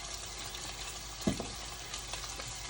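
Bacon frying in a pan for a Jamaican breakfast, a steady soft sizzle and crackle running throughout with one brief louder clatter near the middle, no talking.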